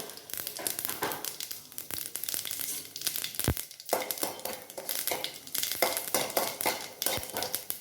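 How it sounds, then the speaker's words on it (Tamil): Mustard seeds, urad dal and cumin fry in a pan for mixed veg kootu, with crackling sizzle, popping bursts and clattering scrapes of a utensil against the pan, close and uneven. "கடுகு, உளுத்தம்பருப்பு, கொஞ்சம் 2 ஜீரகம் போட்டு இது நல்லா பொன்னிறமாக வறுக்கட்டும்."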